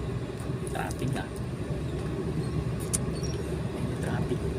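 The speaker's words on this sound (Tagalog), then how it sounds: "Grabe ang traffic, mahaba yung traffic." Road traffic heard from inside a Suzuki minivan during afternoon rush-hour congestion, a steady low rumble of engines and tyres with faint muffled voices, constant and moderately loud.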